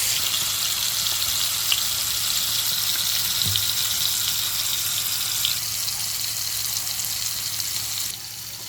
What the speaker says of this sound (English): I'm gonna sear them on both sides for about 3 to 4 minutes